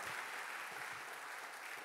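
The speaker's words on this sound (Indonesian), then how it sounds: "Tepuk tangannya boleh yang paling meriah buat Tuhan kita." A church congregation at a worship service claps steadily, dense continuous applause holding an even level throughout without any voices over it.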